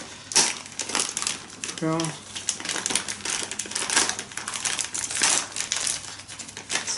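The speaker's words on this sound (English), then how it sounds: "See if I can just rip this open." Plastic or paper packaging from a delivery of African violet plants is torn and ripped open, with crinkling rips and rustles close by, and a person speaks briefly.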